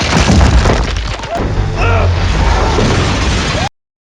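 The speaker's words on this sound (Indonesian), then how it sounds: "Dari atas, penjahat kedua mencoba menembak, namun No." A gunshot rings out in an action film scene as one loud, sharp blast followed by crashing and clattering, then the sound cuts off abruptly.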